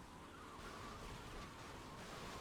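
Police siren in the GTA Vice City Definitive Edition video game, a faint wailing tone sitting low in a busy mix of game noise and traffic rumble, steady throughout with no speech.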